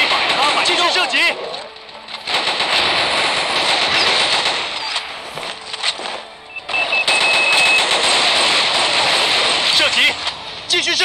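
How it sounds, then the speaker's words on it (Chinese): Rapid automatic T91 rifle fire in the video game Thunder Strike, loud repeated bursts broken by brief pauses, with a voice talking over the shooting. "射击， 百发百中， 继续射击"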